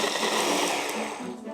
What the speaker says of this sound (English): Use a blender or processor and add a good helping of icing sugar.